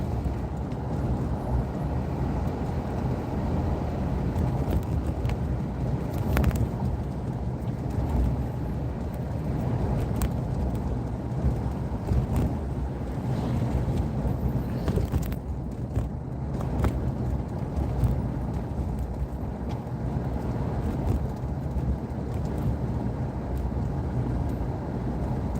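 Car driving along a road parallel to the Halifax Arm, a steady low engine and road rumble lasting throughout, with no talking.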